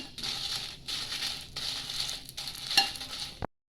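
Dry red chillies roasting in a pan for sambar powder, stirred in rhythmic strokes, with soft rustling, scraping and a light sizzle coming in close waves, then a sudden stop.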